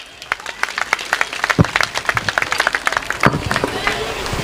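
Loud, lively applause from a village crowd at a commemoration event, many distinct claps crackling close by in a busy uneven rhythm, with some voices mixed into the clapping.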